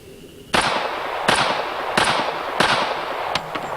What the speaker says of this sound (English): The standard Colt in my hands, full metal jacket, ball ammunition